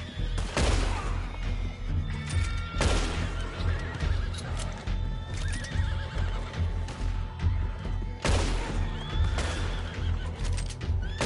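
Several horses neigh and whinny loudly in Red Dead Redemption 2 online, with repeated shrill calls over a busy low rumble and scattered hoof and crash-like thuds.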